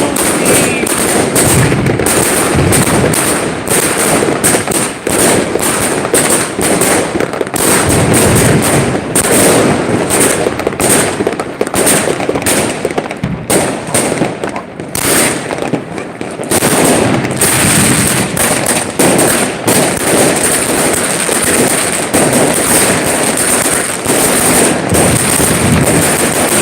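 New Year fireworks and firecrackers explode in a dense, nonstop barrage of loud cracks and bangs around Salerno, with overlapping bursts filling the whole stretch and occasional voices underneath.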